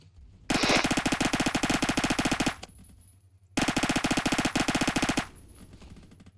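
Automatic gunfire in the Phantom Forces video game: two long, rapid bursts of loud machine-gun fire, each lasting about two seconds and separated by a short lull with faint background noise.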